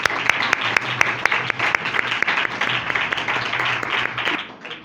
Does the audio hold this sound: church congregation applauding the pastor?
yes